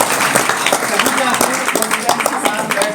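Audience applause at an English word-meaning antakshari competition, a dense, loud patter of clapping hands that runs steadily throughout with sharp individual claps poking through.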